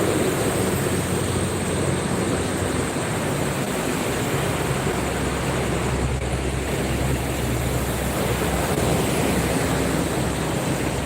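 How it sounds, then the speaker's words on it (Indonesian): Strong wind roars as a steady broadband rush during a live roadside stream along the congested Cikampek toll road, loud and continuous for the whole span with low rumble underneath and no talk. "Anginnya lumayan besar ya."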